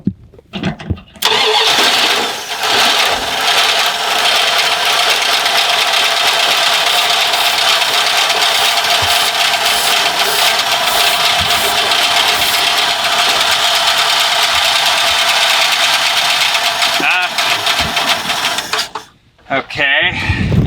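Dodge W-200 truck engine cranking and catching after a short pause, then running rough and loud for a long stretch before cutting out briefly and restarting near the end, with a voice talking over it.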